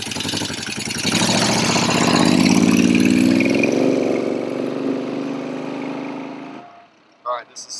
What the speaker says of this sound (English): let him hear it take off again, Stevie.